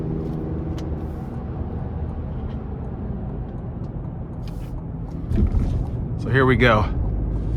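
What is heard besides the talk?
Chevrolet Colorado ZR2 pickup accelerating onto the interstate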